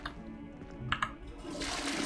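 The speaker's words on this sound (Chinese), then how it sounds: "可以冲马桶" A toilet flushing in the video game Hogwarts Legacy, a steady rushing water sound at moderate level that swells and fills out in the last half second, with no talk over it.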